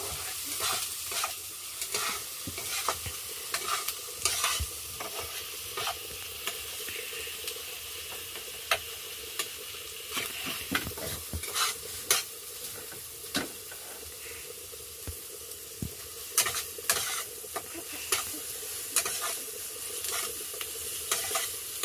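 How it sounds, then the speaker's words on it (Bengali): Ginger and onion paste fries in a pan while a spoon stirs it, with repeated scraping strokes over a constant close sizzle that runs throughout. "এখন আমি আদা আর পেঁয়াজটা ভালোভাবে কষে নিচ্ছি।"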